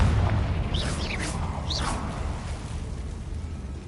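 A Confringo fire spell blasts in Hogwarts Legacy with a deep boom and a whooshing burst early on, then a rumbling tail fades under steady game ambience.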